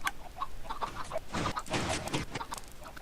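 Minecraft Skyblock chickens in a hatchery clucking in short repeated bursts, several overlapping clucks close up over a soft background wash, no talking.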